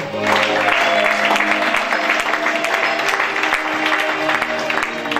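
A church congregation at a worship service claps and cheers in loud, sustained applause with mixed crowd voices throughout.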